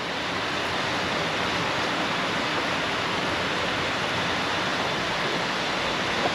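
Steady, dense hiss of an afternoon rain shower in Trinidad and Tobago, falling evenly and unbroken with no other sounds over it.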